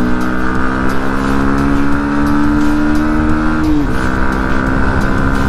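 A 160cc motorcycle engine hums loudly and steadily close by during a ride, holding a sustained drone that dips briefly near the end as the revs shift, with no talk.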